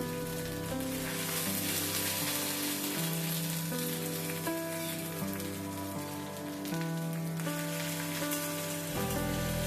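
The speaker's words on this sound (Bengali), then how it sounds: "এই ফোড়নটাকে আমি ভালো মতো ভেজে নিব।" Cumin and five-spice seeds fry in hot oil for a vegetable dal, giving a steady, continuous sizzle with a hiss that lasts the whole clip under prominent background music.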